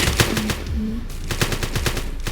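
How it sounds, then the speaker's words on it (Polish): Rapid bursts of automatic gunfire crack loudly in a shooter video game, several rattling volleys separated by a brief pause. "Strzelają do mnie"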